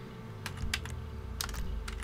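Bursts of typing on a computer keyboard during a GTA Online session, a few quick clustered key clicks close by over a low steady hum.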